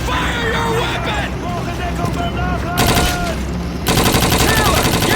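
Sustained gunfire and weapon bursts in the Call of Duty 2 World War II mission crossing the Rhine, loud and continuous over battle noise, with shouted voices of soldiers throughout.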